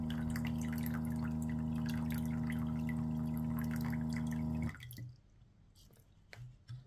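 An electric water filter pumps dirty water into a bottle with a steady motorized hum and trickle for nearly five seconds, then stops, leaving quiet drips and faint handling sounds.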